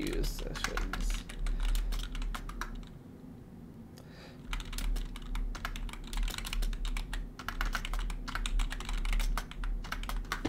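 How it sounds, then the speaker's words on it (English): Fingers type steadily on a computer keyboard in rapid bursts of close, clicking keystrokes, pausing briefly partway through, with no talking. "Let me just type out here"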